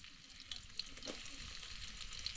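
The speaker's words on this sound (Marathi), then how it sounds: "पहिलं लसूण आणि कढीपत्ता गेलाय आता कांदा टाकूया" Onion tossed into hot oil with garlic and curry leaves on a village wood-fired stove, giving a soft, continuous sizzle that stays fairly faint and even throughout.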